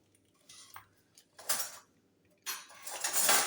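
Readymade cake mixture stirred by hand in a tray, giving a few short bursts of close scraping and clinking against the tray between quiet pauses.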